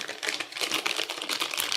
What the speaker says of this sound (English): all I need it for is to cut up a few sausages